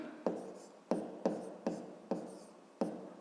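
A pen writes numbers on paper while working a fifth-grade arithmetic exercise, producing five sharp, evenly spaced strokes, each followed by a short fading scratch, close and fairly quiet.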